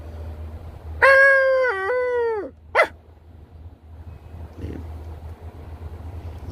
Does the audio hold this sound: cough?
no